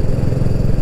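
A BSA Goldstar 650 single-cylinder motorcycle engine revs toward its limiter, giving a brief, steady, loud throb with a rapid pulsing beat up close.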